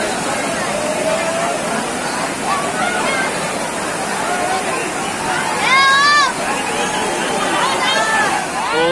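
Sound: waterfall at Lonavala hill station

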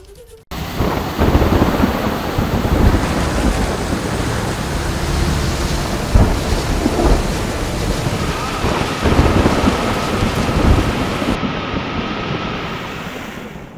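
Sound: heavy monsoon rain with thunder

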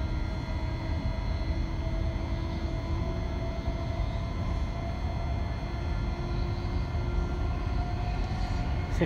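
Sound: Thameslink train accelerating

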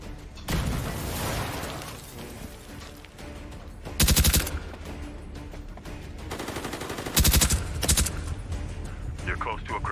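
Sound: gunfire in a PSVR2 video game shooter

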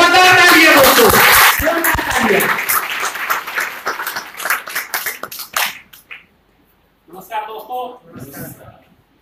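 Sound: audience applause

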